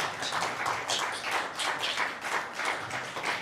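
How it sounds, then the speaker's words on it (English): An audience gives hand clapping for panel presenters at a live Pan-African event: a crowd's claps, close and lively, with a rhythmic pulse running through the sustained applause and no talk over it. "Can you give a big hand clap for the presenters?"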